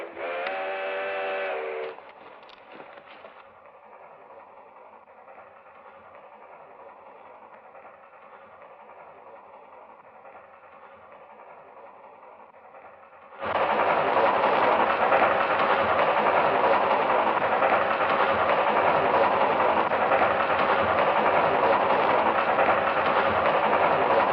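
A train whistle blows briefly, then a steady rumble builds and suddenly swells into a loud, continuous roar of an engine drawing near.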